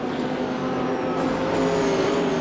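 Race cars lapping the Laguna Seca circuit in a 3D Speed Series round, engines droning steadily at a constant loud level with a shifting pitch as the cars move through the track, with no talk over them.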